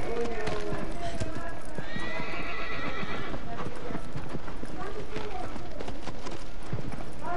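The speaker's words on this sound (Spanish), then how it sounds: "Puta caballo, culio lento cuando dejo de apretar el triángulo" A horse in the video game Shadow of the Colossus gallops with steady clip-clop hoofbeats and gives a clear neigh, while someone talks over it the whole time.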